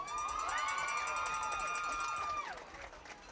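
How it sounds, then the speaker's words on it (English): Crowd cheering and shouting in the stands at a high school football game, La Villa at Santa Maria, a loud sustained roar with whistling and whoops that fades near the end. "let's hear a big round of applause for our Sapphire of the Week, Emmanuel Gonzalez."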